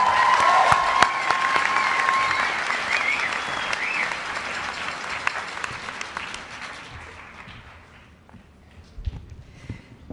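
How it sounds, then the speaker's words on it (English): Graduation audience at a City College commencement applauding and cheering, a dense wash of clapping with a few whistles near the start, loud and sustained, thinning out and fading over the last couple of seconds. "Please join me in another round of applause for Andrew"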